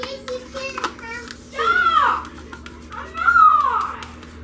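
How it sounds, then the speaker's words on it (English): Young children whine and fuss in two drawn-out, rising-falling cries, with smaller squeaky vocal bits before them, set back in the room during cold process soap making. "You can hear my kids fussing in the background."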